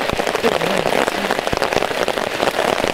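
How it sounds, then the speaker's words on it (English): Heavy rain drums densely on a tarp over a camp, a close, steady patter with sharper individual drop hits, continuing without pause. "yeah, it's raining"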